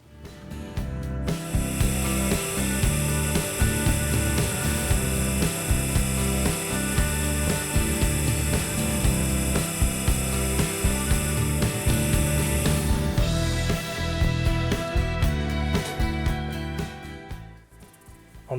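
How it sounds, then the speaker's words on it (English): A wooden veneer ring is finished on a spinning wood lathe, with a steady loud mechanical whir, a high whine and scraping contact noise running continuously for most of the time before winding down at the end. "I think I'm going to finish it up on the lathe"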